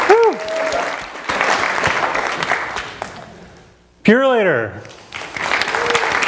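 Applause from an audience at a trucking industry AGM, loud and broadband, broken by a short lull before surging again, with a voice talking over it at the start and end.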